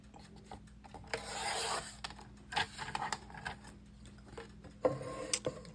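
A paper cutter trims the edges off a printed sublimation design, giving a few close, scraping slicing strokes with sharp clicks and rubbing noises in between, quiet and alone without speech.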